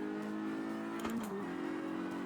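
A Renault-engined, GT40-inspired kit car in the Assetto Corsa racing game holds a steady, faint engine drone, then briefly rises in a short rev midway.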